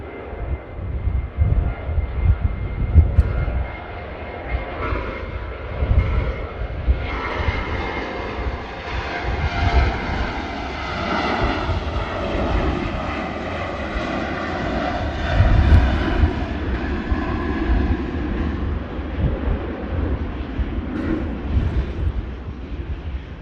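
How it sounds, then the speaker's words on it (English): An Atlas Air Boeing 747 departs Manchester Airport, its jet engines roaring in a loud, sustained rumble that swells and slowly shifts pitch as it powers away, with no voices. "Enjoy a 747."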